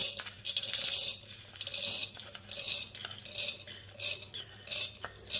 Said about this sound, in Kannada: ಮೊದಲಿಗೆ ಒಂದು ಮಿಕ್ಸಿ ಜಾರ್ಗೆ ಹುರ್ಗಡ್ಲೆ ಹಾಕ್ಕೊಳ್ಳೋಣ